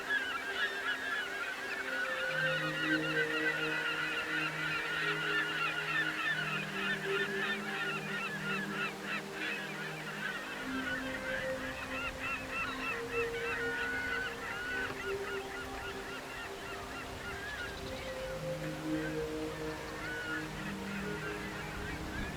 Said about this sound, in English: seabirds nested on every crevice in the towering cliffs